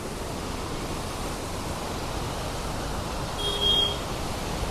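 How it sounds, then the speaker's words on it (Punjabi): Water pours over a canal weir in a steady, even rush of noise that holds through the whole stretch, with a brief faint beep partway through. "ਨੇੜੇ ਤੇ ਦੇਖੋ ਕਿੰਨੀ ਝਾਲ ਪੈਂਦੀ ਆ"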